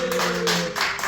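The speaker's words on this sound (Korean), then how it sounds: "박수 한번 쳐주세요" Brief burst of clapping from an audience at a Bible memorization seminar, a few quick rhythmic claps over a sustained tone in the background.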